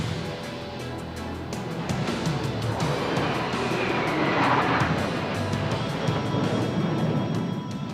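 Hawker Hunter jets of the Patrouille Suisse display team roar overhead at the RAF Fairford air tattoo, a broad sustained engine rumble that swells slightly mid-pass and holds steady at a distance.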